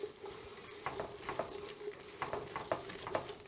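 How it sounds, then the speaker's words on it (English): Seafood stew ingredients being stirred and sautéed in a pot for cioppino, quiet soft spoon scrapes and taps over a faint low sizzle. "give everything a big stir to incorporate all these flavors. We just want to saute this out a bit before we add the liquid."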